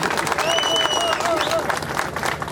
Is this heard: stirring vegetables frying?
no